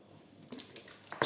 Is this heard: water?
yes